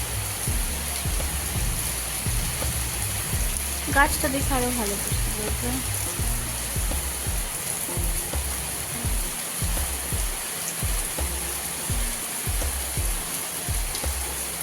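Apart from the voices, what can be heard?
heavy rain falling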